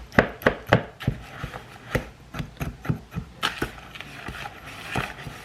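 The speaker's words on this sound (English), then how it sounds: "I'm going to stir this around." A spoon knocks and scrapes around a bowl of apple crisp filling for a crunchy apple crisp-cobbler, giving sharp, irregular clacks at a steady stirring rhythm, loud and close, with no talk.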